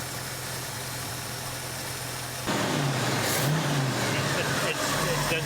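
Car engine running while its distributor is adjusted to set the timing by ear after a motor rebuild. A steady idle rises abruptly into a louder, rougher run partway through.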